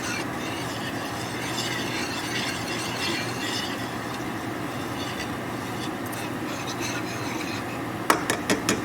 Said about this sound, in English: And you want to scrape that bottom.